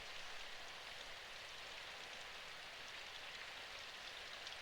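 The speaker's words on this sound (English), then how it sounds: "It's only raining lightly." Light rain ambience from the visual novel Symphonic Rain, a steady soft hiss of drizzle falling over a town, faint and continuous with no voices.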